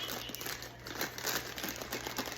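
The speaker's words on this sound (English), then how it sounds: "And then I'm going to put some aluminum foil over it." Aluminum foil crinkles and crumples as it is pressed over a chocolate Bundt cake, a close, continuous rustling with small bursts of crackle, alone without talk.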